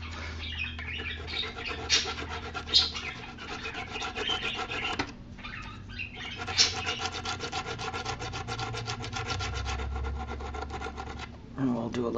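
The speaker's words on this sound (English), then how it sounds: "I'm just going to take and do a little sandpaper on there" Sandpaper rubs back and forth over a styrene model structure in quick rhythmic scratchy strokes, close and fairly loud, with two short pauses between bursts and some quiet talk.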